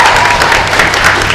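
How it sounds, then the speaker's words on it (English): A panel audience at a live Q&A in a gallery bursts into steady, loud applause and scattered cheering for a character designer, filling the room with dense clapping. "Round of applause for Matthew."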